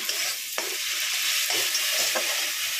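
Tomato tipped into a pan where ginger and cumin are already frying, raising a steady loud sizzle with a few brief stirring scrapes and spatters over about three seconds, no talking.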